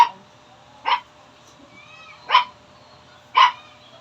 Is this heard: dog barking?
yes